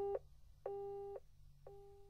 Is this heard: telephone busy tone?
yes